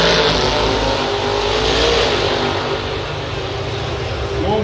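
A Chevrolet Camaro drag car makes its run at the Hockenheimring, its engine roaring loud and steady for the full stretch, with a commentator talking over it.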